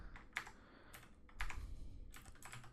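Quiet typing on a computer keyboard, irregular bursts of keystrokes clicking close up with short pauses between them.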